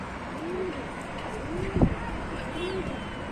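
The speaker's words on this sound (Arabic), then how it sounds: "بصوا يا رجاله الحمام فوقها" Pigeons coo softly three times in a steady rhythm at a pigeon loft in Tanta, Egypt, over faint background noise with a brief thump in the middle.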